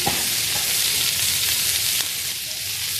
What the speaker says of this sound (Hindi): तकरीबन 4 से 5 मिनट इनको हम हर साइड से कर लेंगे शैलो फ्राई